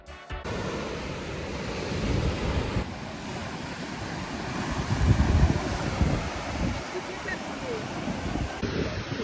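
Surf washes onto a Guadeloupe beach thick with sargassum seaweed, a steady close roar of breaking waves mixed with wind buffeting the microphone.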